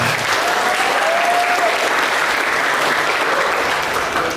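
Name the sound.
audience applause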